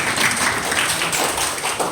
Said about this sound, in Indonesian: tepuk tangan buat Nilu